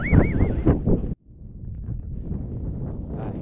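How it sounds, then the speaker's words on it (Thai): Strong seaside wind buffets the microphone on a beach at Sattahip, with loud broadband gusts that drop out briefly and then return as steady, rumbling blustery noise. "เสียงลมท่านผู้ชมจะได้ยินนะครับ"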